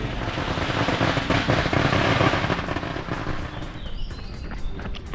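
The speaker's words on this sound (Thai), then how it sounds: "มาจุดประทัดทั้งล่าง" A string of firecrackers set off at a shrine crackles densely and loudly for several seconds, fading slightly near the end, with no talking.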